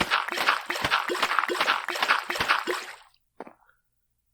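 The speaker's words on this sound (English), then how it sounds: "You can hear the water bottles going." Water bottles on a video game farm drip and plop in a quick, regular series of wet drops for about three seconds, then fall silent apart from one last faint drip.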